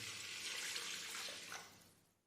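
Water pouring steadily into the pot of an electric rice cooker, a continuous close splashing stream of about two cups that tapers off near the end, with no talk.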